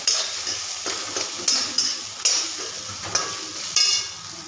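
Garlic, onion and ginger sautéing in a pan for Punjabi-style chole, a continuous sizzle broken by repeated stirring scrapes and light clinks of a spoon against the pan, close and fairly loud.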